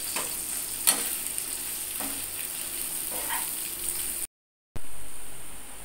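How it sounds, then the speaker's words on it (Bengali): Chopped onions and a bay leaf frying in oil in a pan for prawn curry: a steady close sizzle with a few sharp stirring scrapes, a brief break of silence, then the frying hiss again. "কুচিয়ে রাখা পেঁয়াজগুলো দিয়ে দিলাম। ভালো করে ভেজে নিতে হবে।"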